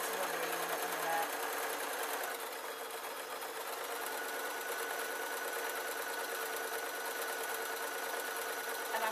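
A sewing machine runs continuously while stitching a plain skirt, its fast, even, rhythmic whir close and steady throughout.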